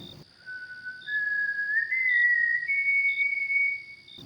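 A single thin, steady whistle drawn out for several seconds, rising slightly in pitch partway through, clean and alone with a faint hum underneath, used as an eerie effect in a horror tale.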